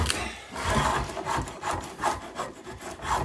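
A rasp shapes a wooden guitar neck in steady back-and-forth strokes, each a rough, scratchy rub, about six to seven strokes in an even rhythm, close and alone.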